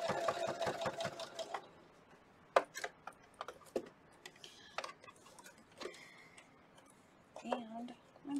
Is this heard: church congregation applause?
no